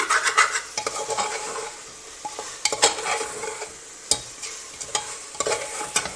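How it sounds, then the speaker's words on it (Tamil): Masala with green gram pieces is stirred and fried in a pan, a spoon scraping and clanking against the metal in irregular strokes over a steady sizzle, with no talking. "மசாலா ஒன்று செய்கிற மாதிரி இதெல்லாம் நல்லா பரட்டிட்டு ஒரு 2 நிமிஷம் வேக விடுங்க"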